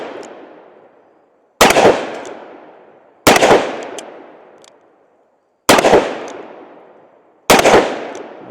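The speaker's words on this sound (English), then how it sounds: "Let's go ahead and take our final few shots." A Smith & Wesson 686 Mountain Gun .357 revolver fires four loud, close shots spaced a second or two apart, each a sharp crack followed by a long ringing decay.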